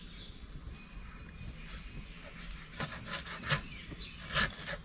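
Alphonso mangoes are cut into pieces around the stone with a knife, giving soft scraping and rubbing strokes, while birds chirp faintly in the background.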